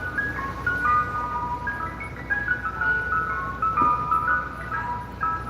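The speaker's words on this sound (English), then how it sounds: "That ice cream truck." An ice cream truck plays its tinkly electronic jingle, a repeating bright melody heard from a short distance over steady background hum, with no talk.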